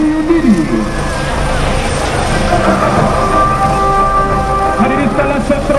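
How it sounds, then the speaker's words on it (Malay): An Agusta 109 AOA military helicopter of Regiment 881 flies overhead at an army day parade in Segamat, Malaysia, its steady loud engine and rotor roar filling the air under crowd noise and background voices. "Di udara dapat kita saksikan pesawat Agusta 109 AOA milik Regimen 881 TUDD."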